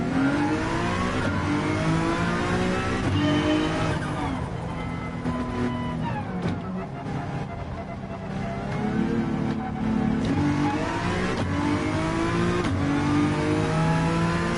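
A Honda NSX race car in Gran Turismo 7 revs up repeatedly, the engine note climbing and falling through several surges and gear shifts, loud and continuous with no talk.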